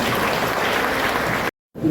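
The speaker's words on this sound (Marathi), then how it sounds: "सर्वांचं करता आपण टाळ्या वाजवतो" A steady wash of crowd clapping at a Raje Umaji Naik birth anniversary gathering fills the air, then cuts out abruptly to silence before resuming faintly.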